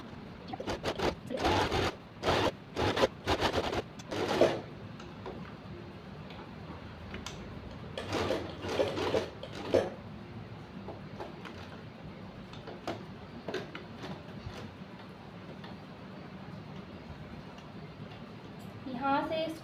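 A sewing machine stitches a simple kurti, running in short rhythmic bursts with pauses between them, and someone talks over it.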